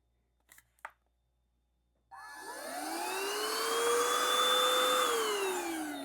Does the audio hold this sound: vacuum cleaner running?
yes